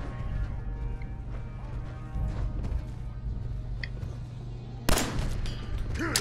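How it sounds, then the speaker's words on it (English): A single frag grenade blast in Fallout 4 goes off near the end, a sharp loud burst over a low steady game hum and faint distant shots. "Kaboom! Frag grenades are awesome."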